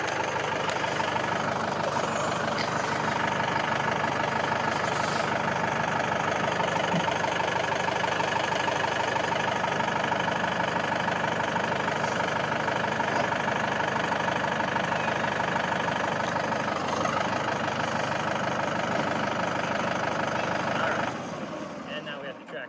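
A tractor engine idles steadily and loudly close by for about twenty seconds, a constant rumbling drone with a faint knocking texture, with people talking over it, before the sound drops away near the end.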